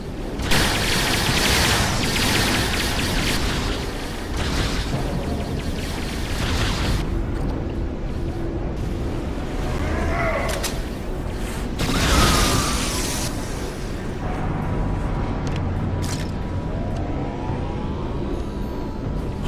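Weapons fire and explosions in Star Trek Online, a continuous dense barrage of blasts, bursts and rumbling booms with a few brief voices rising over the noise.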